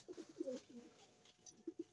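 A pet pigeon kept by a fancier gives soft, low coos in short rhythmic bursts, close but quiet, with a brief lull before two more coos at the end.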